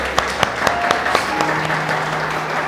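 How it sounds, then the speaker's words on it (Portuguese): A church congregation applauds steadily, a dense, loud wash of clapping with a few sharp accents as voices and sustained tones sound beneath. "Aplauda o Senhor, glória a Deus."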